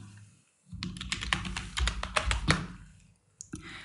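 Rapid keystrokes on a computer keyboard as text is typed into a Photoshop design, a close, steady burst of clicks after a brief pause, then a couple of final taps.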